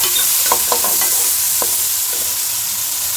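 Whole cumin, black cardamom, star anise and cloves sizzle in hot oil, a loud close continuous crackling hiss with a few sharp pops and stirring taps early on, heard alone.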